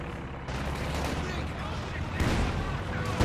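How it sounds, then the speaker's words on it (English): Heavy gun barrage firing in Company of Heroes 2, a dense continuous roar of battle with booming impacts that swells louder near the end, with a voice speaking over it. "This gun barrage firing away."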